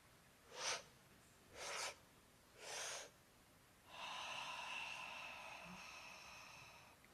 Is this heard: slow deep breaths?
yes